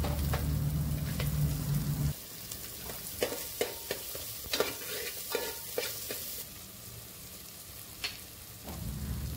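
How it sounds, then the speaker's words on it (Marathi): Onion fries in a pan with garlic and ginger, sizzling steadily, then a spoon scrapes and stirs in a series of sharp clinks and taps while the sizzle quiets, before frying resumes. "कांदा थोडासा भाजून घ्यायचा आहे।"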